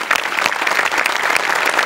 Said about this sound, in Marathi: गेस्ट आपले जे आज आले आहेत त्यांच्यासाठी एकदा जोरदार टाळ्या वाजवूया.